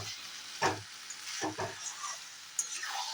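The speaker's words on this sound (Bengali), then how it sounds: "এবার এই ভাজা মশলাটা আমি খুব ভালো করে এর মধ্যে মিশিয়ে দেবো।" A fried spice mix is stirred into muri ghonto with boiled potato in a pot, soft sizzling broken by a few distinct scraping strokes of the spoon, close and fairly quiet.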